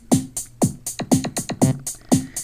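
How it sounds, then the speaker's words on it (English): Default drum pattern from a handheld Korg DS-10 sequencer: a steady electronic beat of punchy kicks, snappy snares and clicky hi-hats repeating quickly in a tight loop, heard alone. "what you're hearing there is you're hearing the drum parts on default"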